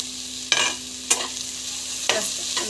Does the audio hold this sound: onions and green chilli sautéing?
yes